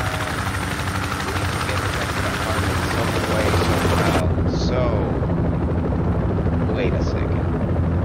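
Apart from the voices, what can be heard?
helicopter in the video game Project Reality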